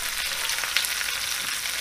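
Rabbit meat laid onto sliced onions in a hot pan sizzles with a dense, steady hiss and faint crackle, close and continuous through the short moment, with no voices.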